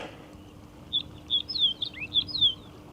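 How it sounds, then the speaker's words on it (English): Several short, bright bird chirps and tweets scattered over a quiet outdoor background by a lake trail in Qaqortoq, Greenland, fairly close and moderately loud, in an irregular sequence. "I hear the birds."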